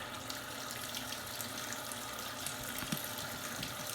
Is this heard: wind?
no